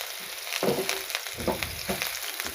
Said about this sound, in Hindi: मैंने घी गर्म करने के लिए रख दिया और अब मैं इसमें प्याज डाल देती हूँ